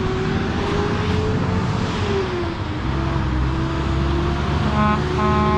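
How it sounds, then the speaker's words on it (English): A loud cement truck horn blares over steady roaring engine and traffic noise, with a sustained tone shifting slightly in pitch and extra honks near the end. "I get excited every time I see a cement truck and they honk the horn"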